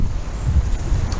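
Strong wind of about 25 to 28 mph gusting through leafless winter woodland, a steady low buffeting rumble that swells and eases against the microphone, with no voices.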